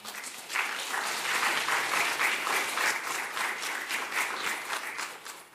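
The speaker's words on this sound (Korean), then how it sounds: "박수 한번 하자." Audience applause at a Cheon Jeong Gung reading gathering: a dense, sustained clapping from a crowd that swells quickly and holds steady for several seconds, with no voices over it.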